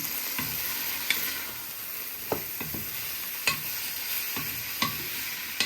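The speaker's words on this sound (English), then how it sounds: "You're going to add in all your onion, garlic and peppers for a few minutes, so they go a bit of a softening." Chopped onion, garlic and peppers fry with chicken in a wide paella pan, giving a steady close sizzle broken by occasional scraping and clinking as the mixture is stirred, with no one talking.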